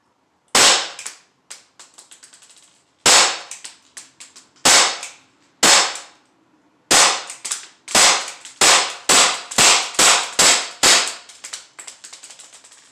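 A Sig Sauer P365 .177 caliber BB pistol firing, about a dozen sharp, loud, close cracks, first spaced out and then in a quicker run of shots, with nothing else in between.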